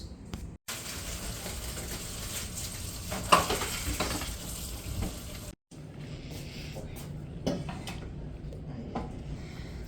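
Meatballs sizzle in a pan while spaghetti dinner cooks, a steady, moderately loud frying hiss with stirring clatter and brief cuts of silence, plus a sharp clink partway through.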